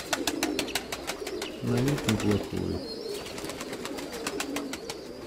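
Pigeon cooing near a dovecote where a short-bodied male is being paired with a larger hen, repeated coos over a steady pulsing background, with someone speaking briefly over them.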